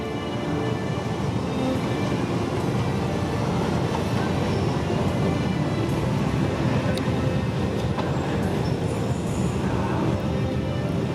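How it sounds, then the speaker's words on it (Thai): A train passes by at a Thai riverside during a long-boat race rehearsal, a steady broadband rumble and clatter holding at even loudness throughout, with no clear talk over it. "มีเสียงรถไฟมาด้วย"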